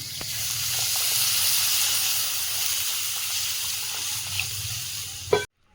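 Water poured onto fried food in a pan over a wood-fired stove sets off a strong, steady hiss and sizzle of steam that runs for several seconds before cutting off abruptly, with no talking.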